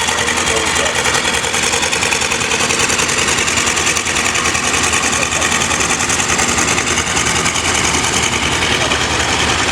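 A restored older Thielen 66 diesel tractor runs at an outdoor summer farm show in Madison, South Dakota, its engine a loud, constant rattling drone that fills the scene from start to finish.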